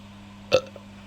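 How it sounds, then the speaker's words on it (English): A single short, close burp from a man after a drink, one abrupt guttural burst in an otherwise quiet room with a faint steady hum. "Quite a nice burp with it."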